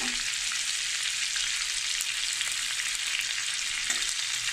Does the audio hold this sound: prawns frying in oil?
yes